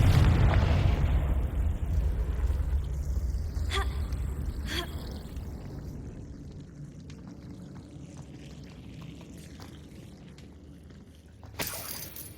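A Confringo spell explodes in the video game Hogwarts Legacy, opening with a loud fiery burst that rolls into a long, slowly fading rumble, with a couple of sharp cracks near the end.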